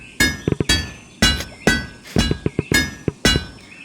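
Hammer strikes ringing on hot metal in A Township Tale, a series of sharp metallic clangs in irregular bursts, some close together, each with a bright ringing tail.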